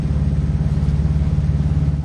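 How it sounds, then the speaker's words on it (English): A small Beta 14 horsepower engine on a sailboat runs steadily, a constant close low throb with an even pulsing beat. "you can hear our small beta 14 horsepower engine purring away in the background"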